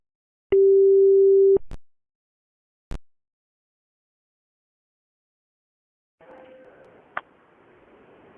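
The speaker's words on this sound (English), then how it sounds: "I can hear my phone is ringing" A mobile phone rings with a single steady electronic tone for about a second, called from an Asterisk phone system, followed by a couple of clicks and then faint, muffled noise.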